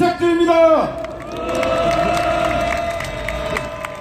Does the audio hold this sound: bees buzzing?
no